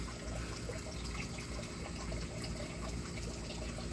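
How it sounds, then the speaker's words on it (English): Pond water churned by an underwater solar-powered pump in a small backyard mini pond, a steady close trickling and splashing flow that holds constant throughout with no voices. "a pump underwater that pushes the water all around"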